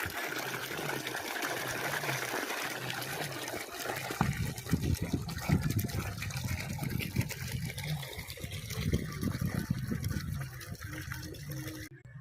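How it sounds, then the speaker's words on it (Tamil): Irrigation water gushes and splashes steadily into a mulberry field, swelling stronger partway through, with a faint murmur of voices in the background. "நம்ம மல்பெரிக்கு வந்து தண்ணி விடுவோம்"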